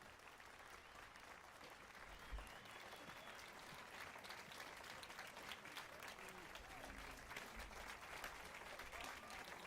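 A thin, faint patter of crowd applause in The Witcher 3 runs steadily throughout, muffled and distant, with low murmuring mixed in.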